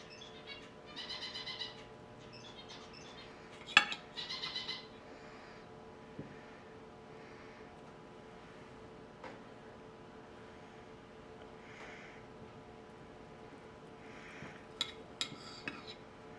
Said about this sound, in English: I'm going to show you today how to use a fork and a knife